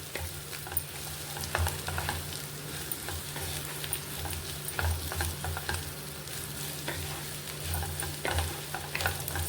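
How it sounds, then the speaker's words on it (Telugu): Gongura leaves frying and being stirred in a pan, with a steady close sizzle and repeated scraping strokes of a spoon throughout. "ఇప్పుడు ఈ గోంగూర కూడా బాగా ఫ్రై అవ్వాలండి."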